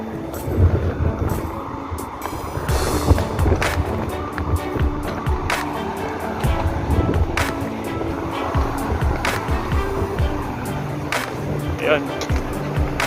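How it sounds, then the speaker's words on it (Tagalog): A strong sandstorm wind buffets the microphone in a continuous rough rumble, with gusts and grainy rustling, while people talk over it. "Medyo malakas yung sandstorm."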